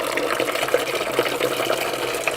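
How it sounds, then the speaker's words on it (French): Water from a Dirtmag XS magnetic heating filter draining into a bucket during plumbing maintenance, a steady continuous pour heard alone, close and moderately loud for the whole stretch. "Je le fais couler dans un seau pour que vous voyez un peu la couleur de l'eau."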